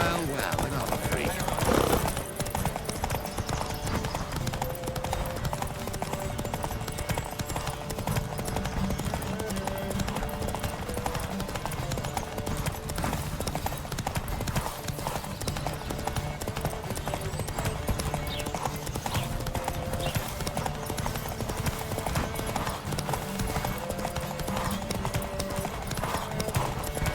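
Rapid clip-clop of galloping hooves runs steadily throughout, with several horses pounding together in a video game horse race under continuous game music and scattered voices.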